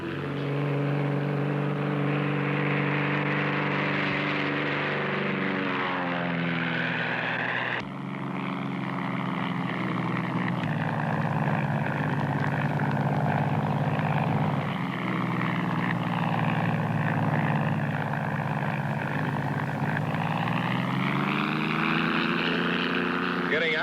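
A small propeller floatplane's engine drones steadily and loudly for the whole stretch, its pitch dipping then rising as it maneuvers over a glacier-edge lake, with voices talking over the engine noise.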